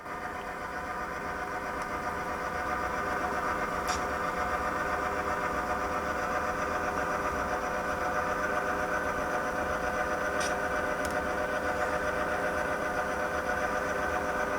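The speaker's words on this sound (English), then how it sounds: "you'd be hard-pressed to get a Locomotive to run any smoother than that" A model train locomotive runs steadily with an even, smooth motor hum and track whir at constant level throughout, broken only by a couple of faint ticks.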